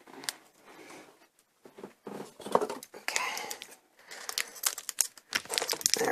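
Plastic packaging around a makeup brush crinkles and tears as it is cut open, a close series of rustles, snips and crackles with quiet breathy pauses between bursts.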